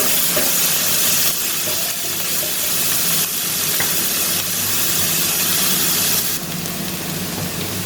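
Garlic ginger paste frying in a hot pan, a steady loud sizzle and hiss holding for the whole stretch with faint stirring scrapes beneath it.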